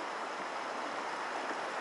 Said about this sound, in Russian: очень-очень красивая река